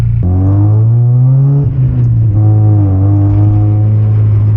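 A Mazda Miata's engine revs hard, with a sudden drop and stumble partway through as a gear shift goes badly, then the engine pulls again at a steady, loud drone, heard up close with no talking.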